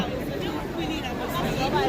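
Dense crowd chatter fills Via del Corso, Rome's main shopping street, at Christmas, a continuous close murmur of many voices with no single voice standing out.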